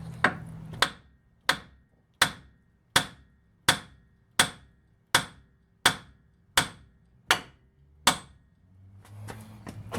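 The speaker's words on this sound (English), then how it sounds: "We're gonna hit her with a hammer." A hammer strikes the outer tie rod end on a Fox Body Mustang's front end, eleven sharp metallic blows spaced about three-quarters of a second apart, loud and close, with brief ringing after each hit.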